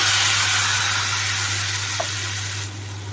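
A loud, steady hiss of frying fills the whole stretch as spice paste sizzles in hot oil with tempered spices, over a low constant hum.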